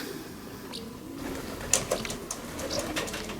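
Racing pigeons, young birds in a race, landing at the loft: faint scattered flutters and soft taps, a few sharper knocks and coos over a low background, with no voices.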